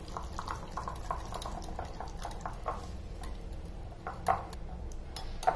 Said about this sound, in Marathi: छान फेटून घेतलं मी।